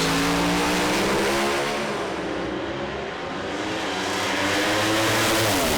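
A Pro Slammer drag racing car at Sydney Dragway revs hard at the start line, its engine roar loud and close and held steady, with a brief dip and swell through the middle.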